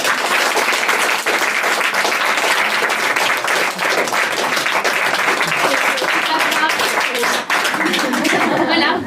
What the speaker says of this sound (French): je vous demande d'applaudir Emma.